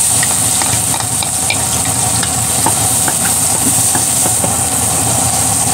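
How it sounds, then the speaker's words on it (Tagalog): Garlic sautéing in hot cooking oil for Bicolano igado: a loud, continuous close sizzle with light stirring scrapes and crackles throughout. "Igigisa ko na po ang aking bawang."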